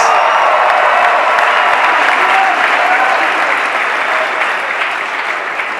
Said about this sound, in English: Give them a tremendous round of applause.